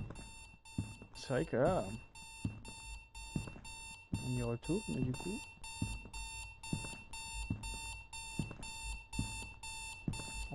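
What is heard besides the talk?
alarms beeping in the video game Strange Night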